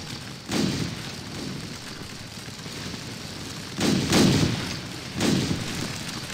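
Musket volleys in a Napoleonic Waterloo battle game sound as three heavy, rolling bursts, one early and two close together near the end, over a constant low battlefield rumble.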